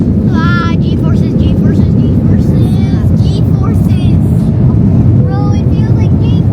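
A passenger airplane takes off, its engines a loud, steady roar filling the cabin throughout, while people talk and exclaim excitedly over the noise.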